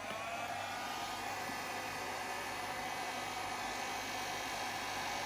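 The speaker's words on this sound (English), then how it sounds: "it's a brush, a hairdryer and brush, and I took the brush end off and just use this for" Hairdryer-and-brush tool with the brush end removed blowing to dry watercolour paint, a steady faint whooshing hum running unbroken and alone.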